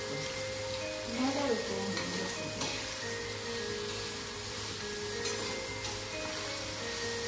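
Onion, garlic and tomato frying in a pan for a village-style prawn fry, giving a steady low sizzle with faint stirring, softly in the background throughout.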